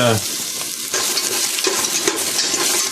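Large ginger slices fry in hot cooking oil with a loud, steady sizzle and some light stirring scrapes, close up.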